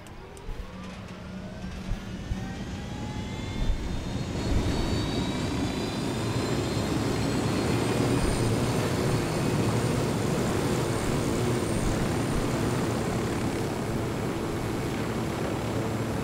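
A propeller aircraft in the video game Ghost Recon Wildlands spools up with a rising whine, then settles into a loud, steady engine drone that continues without talk.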